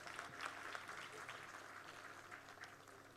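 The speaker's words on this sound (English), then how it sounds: "Let's give a big round of applause, my friends," Guests at a conference inauguration ceremony applaud, a very faint, steady crowd clapping with some uneven peaks, low in level and heard from a distance.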